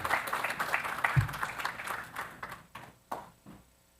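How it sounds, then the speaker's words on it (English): A short burst of audience applause, many hands clapping briskly at first, then thinning out and fading to a few scattered claps. "Round of applause."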